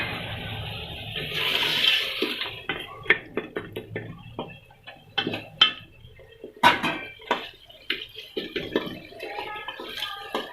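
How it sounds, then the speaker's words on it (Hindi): Water hits hot mutton Shinwari masala in a pan with a brief hissing splash, then clinking utensil knocks and scraping stir the pan. "थोड़ा सा इसके साथ पानी का छींटा लगाएंगे"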